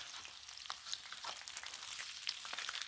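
Thick bacon frying on a Blackstone griddle, a steady close sizzle with scattered pops and crackles throughout, and no voices.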